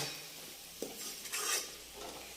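Potatoes frying in a pan, stirred with a utensil: a steady soft sizzle under brief scraping and stirring strokes, close and fairly quiet, with no talk.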